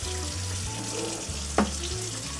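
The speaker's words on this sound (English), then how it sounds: "Rinse it with hot water" Hot tap water pours over fettuccine noodles in a sink, a steady close hiss of running water with a low hum beneath and one brief clatter near the end.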